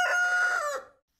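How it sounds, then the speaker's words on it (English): A rooster crows once nearby, a loud, full cock-a-doodle-doo lasting about a second and then cutting to silence, with no voices. "Why is the rooster crowing so much"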